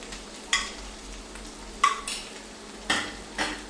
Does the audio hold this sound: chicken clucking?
no